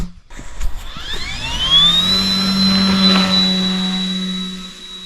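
The engine of a Hadron fixed-wing drone spins up at launch, rising from a low sputter into a steady, loud whining drone with a high sustained tone, close and without speech.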